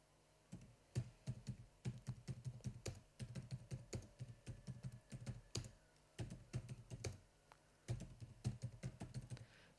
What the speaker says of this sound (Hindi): ये देखिए टाइप हो रहा है।